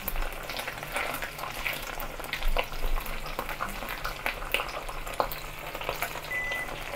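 Teriyaki chicken pan-fries with a steady, close sizzling hiss broken by small crackles and spatters, continuous throughout with no voices.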